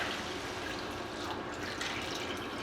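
Water pours steadily into a pot for split pea soup, a continuous close rushing splash with no pauses, moderately loud and alone.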